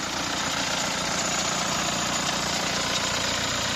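A steady, continuous engine rumble from a 2017 Hyundai Tucson 4WD idling, loud and even throughout with a broad mechanical hum and no pauses.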